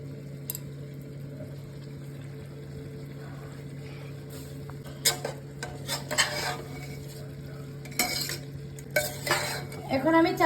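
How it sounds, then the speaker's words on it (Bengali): Soaked Gobindobhog rice is stirred into chicken tehari in a pot, with scraping spoon-on-metal clatter that comes in bursts toward the end over a steady low hum. "এখন আমি চালটাকে ভালো করে এটার সাথে মিক্স করে নেব"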